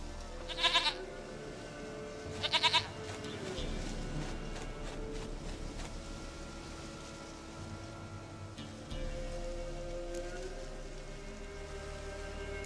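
A goat in The Witcher 3 video game gives two short quavering bleats near the start, then the steady game ambience with rain-like hiss continues, with a voice speaking over it.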